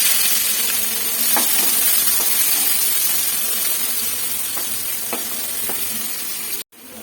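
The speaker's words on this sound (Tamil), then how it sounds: "இப்போ 2 வெங்காயம் 10 பல்லு பூண்டு போட்டு நல்லா வதக்கிடுங்க" Onions and garlic sautéing in hot oil in a kadai, a loud continuous sizzle close by with a few sharp stirring clicks, cut off abruptly near the end.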